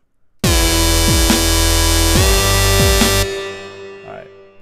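Heavy dubstep bass synth patch built in Reason, a loud sustained buzzing tone with rhythmic pitch drops and wobbles, played alone and cutting off near the end into a short tail.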